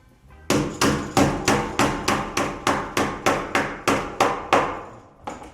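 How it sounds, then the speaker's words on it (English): A recessed ceiling can being hammered into a ceiling joist: about thirteen sharp, evenly spaced hammer blows ring close and loud, followed by one lighter final tap. "he's now anchoring them into the ceiling joist"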